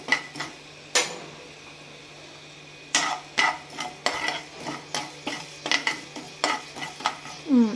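Coriander seeds, cumin and fenugreek being lightly roasted in a pan on the stove for a ginger pickle, stirred with a spoon: a steady series of close scraping clicks and clinks against the metal, with no one talking.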